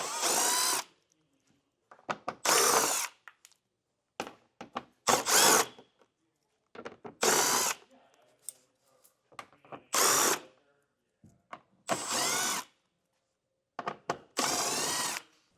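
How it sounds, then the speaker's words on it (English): A power drill removes 7mm screws underneath a 2025 Jeep Gladiator, sounding in about eight short, sharp whirring bursts with brief pauses between them, close and clear with no voices. "underneath the vehicle, we have a series of 7mm screws to remove. Let's go down the line and get all these popped up."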